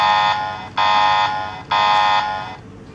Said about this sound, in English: the computer alarm will ring